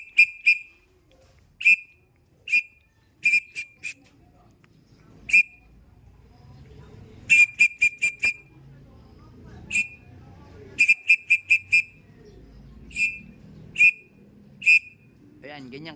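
Sharp, high whistle blasts from a caller used to summon pigeons into their loft, sounding in short single and rapid clustered bursts, with faint birds and light movement behind.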